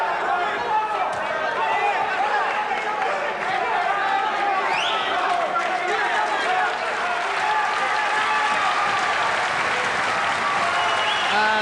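A boxing crowd gives a sustained ovation at the end of a hard-fought bout between Edwin Rosario and Frankie Randle, dense applause and cheering roaring continuously throughout with a ringside commentator's voice over it.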